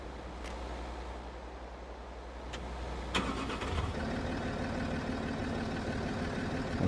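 Toyota Land Cruiser engine in Farming Simulator cranking and catching, then settling into a steady mid-pitched idle with a low rumble, heard close and alone.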